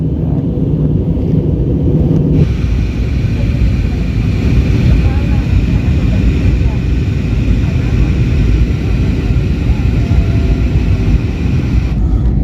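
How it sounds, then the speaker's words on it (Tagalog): Inside an airliner cabin descending low over the sea to land in Osaka, a loud, steady engine and airflow drone fills everything and shifts in tone slightly early on before holding constant. "napakababa na ng eroplano"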